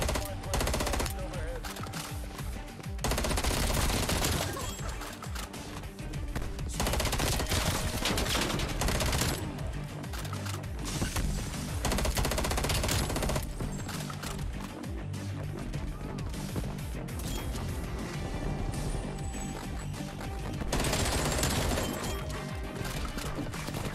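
FFAR 1 rifle fire in Call of Duty: Cold War, dense rapid bursts of automatic gunfire running almost continuously at steady loudness, broken by brief pauses, with a busy game soundtrack underneath.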